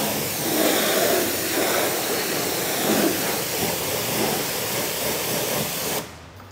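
A water spray rinses the back wheel of a car during a hand wash, a steady close hiss that runs unbroken before cutting off near the end.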